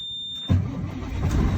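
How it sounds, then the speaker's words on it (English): A truck engine cranks and fires up in the cab during a commercial driver's air brake test, following a steady high electronic warning tone; the engine catches abruptly, then settles into a close, rumbling idle. "start your engine"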